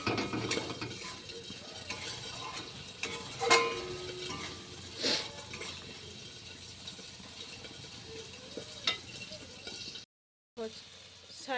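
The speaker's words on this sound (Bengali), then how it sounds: "এবারে ভালো করে আমি এইরকম করে মশলাটাকে কষিয়ে নেব যতক্ষণ না তেল ছাড়ে মশলাটা।" A spice masala is stirred and fried in a pan until the oil separates, with repeated metal scraping and clinks of a spatula over a low sizzle and a few louder knocks, then a brief silence.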